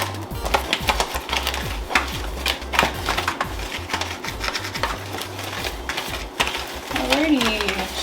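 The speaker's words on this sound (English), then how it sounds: "I'm just gonna mix this in" A whisk or spoon scrapes and clicks in a bowl, mixing flour with curry seasonings in a continuous, rhythmic clatter, with the speaker's voice briefly audible near the end.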